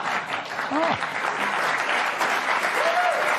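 Studio audience applauding on a late-night television talk show, a loud, dense, continuous wash of clapping with some cheering and whoops across the whole stretch.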